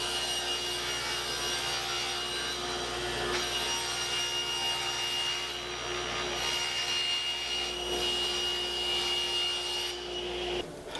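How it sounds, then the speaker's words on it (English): A table saw rips a sheet of plywood in one long, steady, loud whine and rasp that holds for about ten seconds before cutting off, up close with no talk. "I'm going to rip this sheet of plywood down a little less than halfway"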